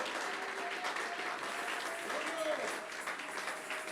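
A church congregation applauding, with dense, sustained clapping that fills the whole short stretch while voices carry on underneath.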